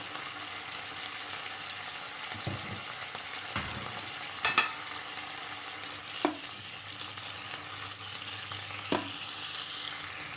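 Ingredients stir-fry in a pan for a mixed-vegetable Thai curry, with a steady, moderately loud frying crackle throughout. Occasional clicks of the spatula against the pan break through it, and no one speaks.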